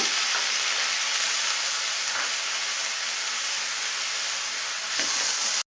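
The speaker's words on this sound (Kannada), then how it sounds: "ಟೊಮೊಟೊ ಹಾಕಿ ತ್ರೀ ಮಿನಿಟ್ಸ್ ಫ್ರೈ ಮಾಡೋಣ" Loud, steady sizzling of food frying in a hot pan, a dense hiss with occasional faint stirring taps, no talking.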